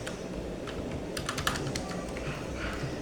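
Keys clatter in quick, uneven bursts on a computer keyboard while code is typed, the clicks fairly close over a steady low background hum, with no talking.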